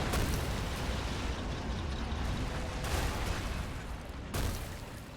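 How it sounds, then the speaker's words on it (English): Explosions rumble through a large tank battle between Shermans and Tigers in a realism-modded war game, a dense, continuous barrage of blasts and gunfire with sharper bursts standing out, and no talking. "Big explosions here on the left."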